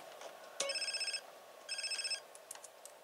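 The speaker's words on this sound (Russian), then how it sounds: "Ну ладно, давай посмотрим, кто звонит." A phone rings inside the video game GTA San Andreas, with two bursts of electronic trilling bell tones, each about half a second, separated by a short pause, clear over a quiet game background with no talking.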